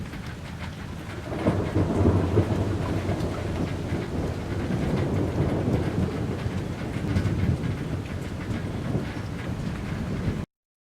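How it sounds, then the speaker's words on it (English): A thunderstorm in Indiana with steady heavy rain and deep rolling thunder that swells and fades, plus some wind buffeting the microphone, with no voices. "thunderstorms finally roared to life in the Hoosier State"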